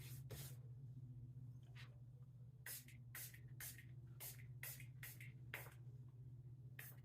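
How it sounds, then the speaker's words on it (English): Stirling eau de toilette pump bottle sprayed repeatedly: about a dozen short, sharp hissing spritzes in quick irregular succession over a low steady hum, quiet and close. "you just kind of pop that off, and it's a spray bottle here."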